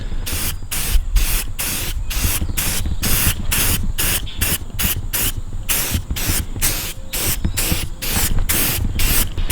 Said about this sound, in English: I'm just gonna go ahead and start spraying it with this automotive primer